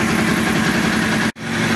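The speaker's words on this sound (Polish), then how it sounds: "od razu silnik już zaczął normalnie chodzić" A Honda CBR1000RR SC57A motorcycle engine idles steadily and loudly up close after its throttle bodies have been synchronized, with one brief dropout in the sound.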